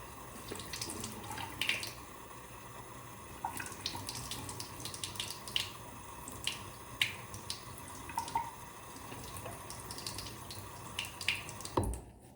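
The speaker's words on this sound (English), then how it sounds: "Step 6 is to rinse your sponge." Water runs from a tap into a sink while a sponge is rinsed, with a steady background splash broken by irregular drips, squeezes and small clatters, fairly close and moderately quiet, no talking.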